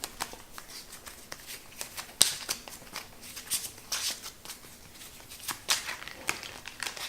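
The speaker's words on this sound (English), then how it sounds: "These are going to get shuffled back in." Raxxon board game cards being shuffled by hand at a table, a run of quick riffling and slapping card sounds with brief pauses, close and clear.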